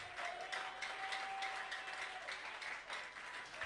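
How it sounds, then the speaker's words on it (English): A church congregation applauds during a service, a steady wash of clapping from many hands, fairly faint and distant, with a brief tone sounding beneath it. "Can you put your hands together for Jesus?"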